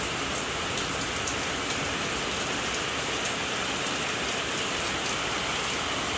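Steady, dense rain pours down in a sudden shower over an outdoor cooking spot in Quezon, a continuous even hiss of drops on surfaces with no voices.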